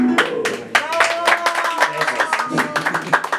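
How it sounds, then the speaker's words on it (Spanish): Guests clap at a birthday party with a youth mariachi band, sharp, close handclaps in an irregular burst, with a voice and some tonal sound running underneath. "Aplauso bien fuerte, pero no aplauden, aplauden."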